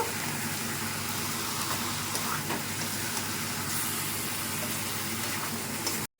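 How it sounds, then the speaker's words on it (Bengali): Meat being stir-fried in a pan with green chili paste and no tomato, giving a steady, close, continuous sizzling hiss that holds evenly throughout without talk. "এই যে দেখো, মাংসটা কষাচ্ছি"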